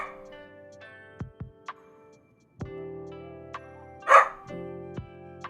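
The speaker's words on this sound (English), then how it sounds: "Doesn't sound like an eepy dog." A small dog left on a high bed barks and yips a few times, with short sharp calls spaced apart and one louder, whining bark near the end, close by in a quiet room.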